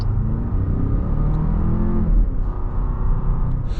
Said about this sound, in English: This engine doesn't have the best sound as well